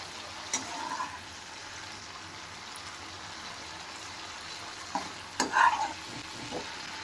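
Prawns frying in oil in a pan, stirred and flipped with a spatula: a soft, steady sizzle with a few quick scraping clatters toward the end, close by and without talk.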